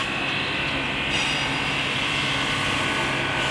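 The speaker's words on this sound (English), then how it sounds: "That's the polishing wheels. Yeah. The speed is very fast." The spinning polishing wheels of an MLZ-9 glass edge polishing machine give off a steady, fast, high whirring hum with a constant mechanical drone.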